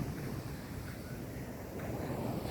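Sea waves roaring at Manjeshwaram beach in early morning, a continuous low wash of surf close by, mixed with wind rumble on the microphone and no voices.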